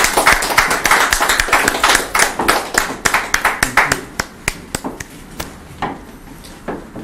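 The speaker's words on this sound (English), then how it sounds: "Ladies and gentlemen, give them a round of applause" An audience at a live morning show claps for a cake cutting, with sharp, uneven, fairly sparse claps that are loud at first and then thin out to scattered single claps.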